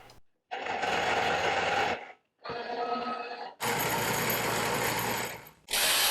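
A machine tool cuts the ends of a drill sharpener plate's bottom face, running in steady whirring passes of about one to two seconds each, separated by short silences, close and fairly loud.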